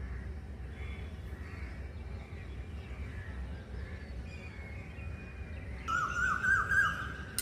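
Koel birds calling in the morning, a pair of repeated rising whistled calls that grow louder and nearer toward the end over faint outdoor background noise.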